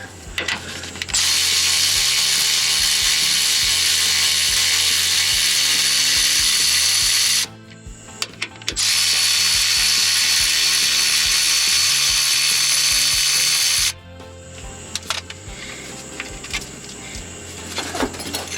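Two long bursts of a power ratchet spinning off 13 mm bolts on a Chevy Express transmission cross member, each a loud, close buzzing whir, separated and followed by quieter clicks and clanks of tools.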